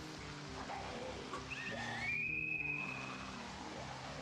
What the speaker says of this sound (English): So I'm going to blow my whistle.